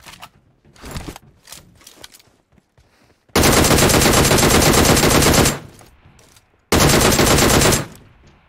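Loud, dense automatic gunfire from the mobile game PUBG Mobile comes in two long sustained bursts, preceded by a handful of scattered single shots and clicks.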